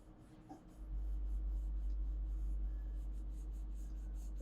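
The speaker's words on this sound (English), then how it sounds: "let your eye travel down and around the object, and you let your pencil follow." A pencil draws steadily across paper in a sketching workshop, a continuous soft scratchy rubbing that lasts several seconds close up over a low background hum.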